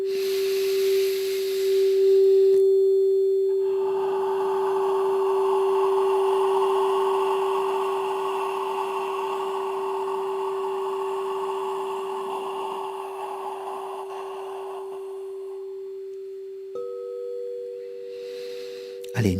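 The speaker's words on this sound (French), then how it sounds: "Encore une fois, le son A, soufflez tous ensemble." A group in a collective meditation blowing out breath on the sound "A" together, a broad airy whoosh swelling and holding for about twelve seconds over a steady drone, then fading.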